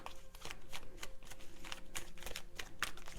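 Tarot cards being shuffled close by, a rapid run of crisp papery riffles and slaps in repeated bursts, with no voice over them.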